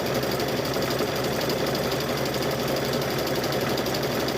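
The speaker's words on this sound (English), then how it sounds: "It's amazing what a sewing machine will do" Stitching through fabric and rope for a rope bowl, a sewing machine runs at a steady high-speed whirr with rapid needle chatter, loud and unbroken from start to finish.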